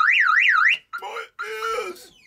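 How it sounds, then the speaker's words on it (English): A Clifford Concept 650 car alarm on a test rig sounds a loud warbling siren that sweeps up and down, then switches to other siren and chirp tones in short bursts. "So we have a Concept 650 Clifford alarm harness there. We can instantly test whether the alarm's working."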